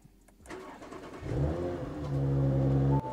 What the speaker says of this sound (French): On va la démarrer pour le plaisir des oreilles.